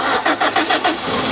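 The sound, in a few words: Suzuki car engine starting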